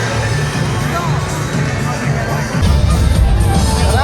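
A dense crowd murmurs and chatters all around, steady and fairly loud, with a deeper rumble of noise swelling near the end.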